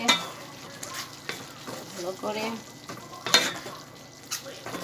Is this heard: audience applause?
no